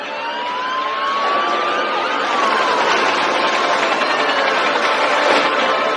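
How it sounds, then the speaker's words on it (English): Police car sirens wail loud and close, several overlapping tones sweeping up and down without pause over a dense traffic roar during a manhunt for a vehicle. "There's police sirens everywhere."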